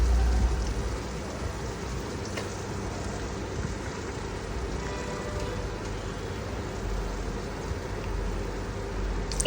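Onion slices frying in a pan for Chinese chili chicken, a steady dense sizzle and crackle that runs unbroken and fairly loud throughout, with no voices.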